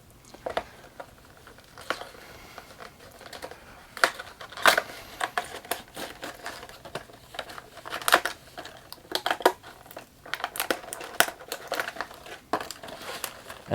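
Plastic bubble packaging holding a Mego Star Trek Kirk figure is cut open, giving close, steady crinkling and crackling with sharp snips and rustles throughout, no voices.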